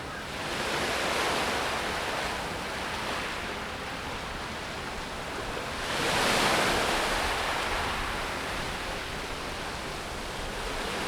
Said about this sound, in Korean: 파도 소리 잠시 감상해 보실까요?